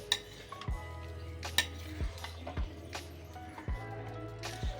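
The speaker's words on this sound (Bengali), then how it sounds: "এটা হালকা হাতে একটু মিশিয়ে নিচ্ছি।" Chicken rice being gently mixed in a single pan, soft rhythmic scrapes of a utensil roughly every half second over a faint sizzle, quiet and close.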